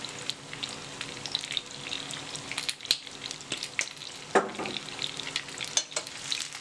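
Courgettes sauté in a pan with salt, pepper and oregano, giving a steady broad sizzle with scattered clicks and scrapes of stirring, near and moderately loud, no voice.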